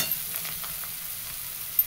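Chopped tomato sautéing in a pan for bhindi (okra) bhaji gives off a faint, steady sizzle throughout, with a few soft stirring touches and a slightly sharper scrape near the end.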